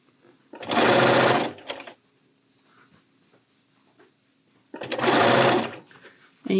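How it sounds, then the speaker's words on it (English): Sewing machine slowly stitching a gentle curve in a quilt background, two short loud bursts of rapid needle chatter separated by a quiet pause with faint background hum. "You see how slow I'm sewing?"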